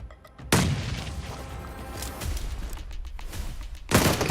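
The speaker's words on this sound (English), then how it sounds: "Good nade from Potato." A grenade explodes in the mobile battle-royale game PUBG Mobile, a sharp booming blast followed by a sustained rumbling tail and a second loud burst near the end.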